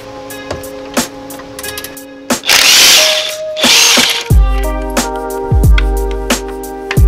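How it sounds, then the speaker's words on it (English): A hand ratchet working on a tight bolt while an installer breaks it loose on a vehicle: rapid clicking at first, then loud, close bursts of harsh mechanical grinding and a whining motor, with no talk. "we're gonna use ratchet on this one, just because it's tighter space and easier to do the ratchet"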